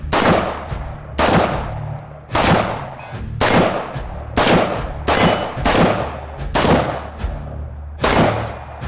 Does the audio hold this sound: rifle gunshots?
yes